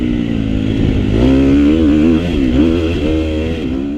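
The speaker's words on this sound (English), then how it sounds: "Dang, I love the way this thing corners." A 2018 KTM 250 XC-F four-stroke dirt bike rides close by, its loud engine note wavering up and down as the throttle rises and falls through a corner.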